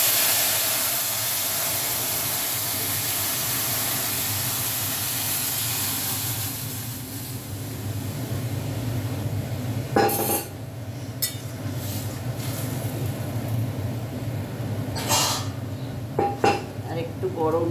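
Biulir dal lentils going into a hot cooking pot, a steady steamy hiss followed by a few sharp metallic clinks and scrapes of the pot and utensil.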